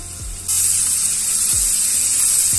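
Garlic paste hits a pan of fried onions for bhindi masala, setting off a sudden loud hiss that jumps in and then holds as a steady, close sizzle.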